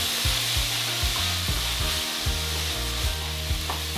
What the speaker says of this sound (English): I'm going to add a bit of soy sauce. Just about a tablespoon. Let that bubble.